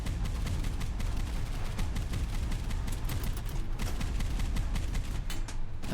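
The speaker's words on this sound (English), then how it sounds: "Try not to get hit by a bunch of mortars." Mortar fire and gunfire in the video game Boat Crew, a dense and continuous barrage of loud overlapping shots and blasts that carries on without a break, with no talking.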